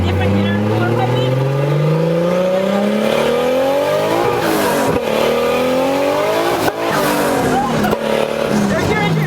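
A tuned car with modified intercooler piping revs hard and stutters against boost cut, its engine pitch climbing in repeated loud sweeps up close, with choppy breaks as the limiter bites.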